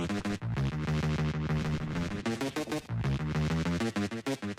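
A beat-battle instrumental with the Guitar Rig Pro effect removed, still running through Output Thermal, plays a dense, continuous loop of rhythmic drums and sustained chords at steady volume.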